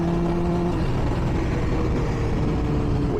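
2005 Triumph Daytona motorcycle engine, a loud, close, steady hum with a constant tone and rough low rumble, heard alone without any change in pace.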